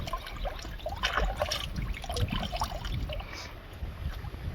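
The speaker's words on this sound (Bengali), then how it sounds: "দেখো কীভাবে ধুচ্ছি আমরা" Water runs and splashes as chicken feet are washed by hand, a close, uneven trickle broken by small sloshes and drips, with no speech.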